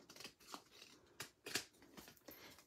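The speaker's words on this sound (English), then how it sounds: "And then take your scissors" Scissors snip through paper card during a sparkly rainbow craft, several close, crisp cutting sounds spaced irregularly with soft rustling between them and no talking.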